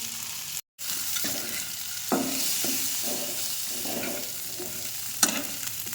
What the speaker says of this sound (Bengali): এবার এগুলোকে একটু ভাজতে হবে, সামান্য, খুব বেশি ভাজবো না, সামান্য একটু ভাজবো